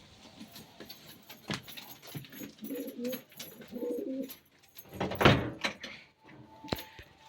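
Pigeons in a home coop coo softly while rustling and shifting about, with door and metallic rattling noises and a sharp flutter burst midway, all at moderate distance.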